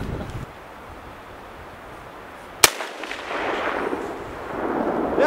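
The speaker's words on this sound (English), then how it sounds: "Go ahead and shoot, bud." A single sharp rifle shot cracks out midway through a quiet outdoor hunting scene, loud and abrupt, followed by a brief fading echo over faint wind.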